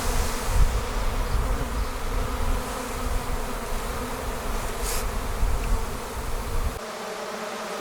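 A honey bee swarm is shaken out of a bag into a hive, filling the air with a loud, dense, close-up buzz of many bees that holds steady, then drops abruptly quieter near the end.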